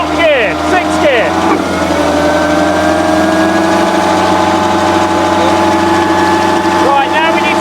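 Chieftain tank TN12 gearbox running steadily in sixth gear on a test rig, a loud continuous mechanical drone and whine, with brief speech at the start and end.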